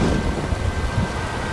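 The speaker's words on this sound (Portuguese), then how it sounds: "Chovendo." Steady rain with low rolling thunder in the video game L.A. Noire, a continuous dense wash of noise with a deeper rumble underneath, close and even throughout the short stretch.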